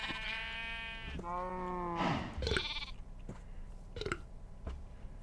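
Sheep in the video game TerraFirmaCraft bleat twice in quick succession, clear wavering calls close up, followed by a few soft clicks and shuffling sounds.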